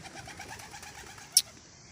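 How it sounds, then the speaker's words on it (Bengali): Newly housed pigeons coo softly in a low, repeating rhythm, with one brief sharp click standing out near the end. "এই যে আমার কবুতরগুলা ধীরে ধীরে তাদের বাসাগুলা চিনতেছে"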